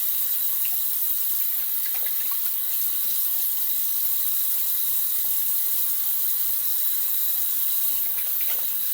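Running tap water streams steadily from a bathroom faucet for a shaving rinse, a constant close splashing hiss with small drips and clatters, no talking.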